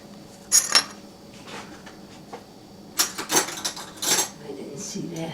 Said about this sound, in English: Now I'm going to spoon this on.